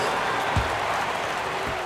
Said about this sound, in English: Let's give them a round of applause for Florida Gators dancers.